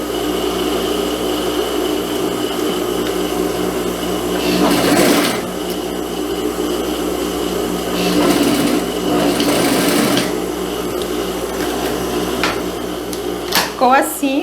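Sewing machine running a short 2 cm seam on a pantacourt jumpsuit: a steady motor whir with rapid stitching rattle, rising in bursts, while someone talks over it.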